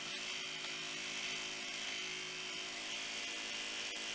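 A power tool cuts slowly through heavy 3/4 inch plywood with a continuous, loud, high-pitched whine that stays steady for the whole stretch. No one talks over it.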